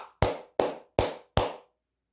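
Four sharp hand claps in a steady, evenly spaced rhythm, close and clear against silence, then nothing.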